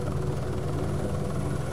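A Hélicoptères de France helicopter ferrying diving equipment to a mountain lake site drones steadily, its dense rotor and engine rumble filling the brief stretch without pause.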